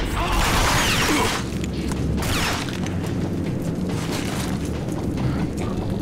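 Grenade blasts in the video game RAGE, from The Scorchers DLC: loud booming explosions that keep up a dense, rumbling roar with crashing bursts throughout, and no voices.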